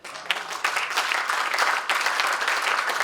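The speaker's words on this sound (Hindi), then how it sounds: "और तालियां इन बच्चों के लिए, सबके लिए, यहां से वहां तक।" An audience claps steadily, a dense wash of applause that swells in and holds for a few seconds, no talking over it.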